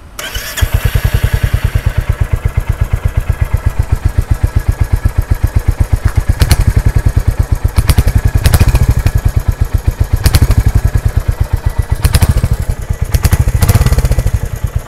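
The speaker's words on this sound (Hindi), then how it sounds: "अब आपको इसको स्टार्ट करके इंजन की आवाज़ सुनाते हैं कि जो" A Royal Enfield Hunter 350 motorcycle starts up and settles into a loud, close, steady thumping idle. The exhaust beat swells with a few throttle blips and plays alone, with no talk.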